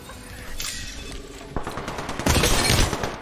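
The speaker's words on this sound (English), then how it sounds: "He's shooting me, he's level 25." Bursts of automatic gunfire from a video game shooter, quiet rattling at first, then sharper and louder volleys of rapid shots crowding the second half.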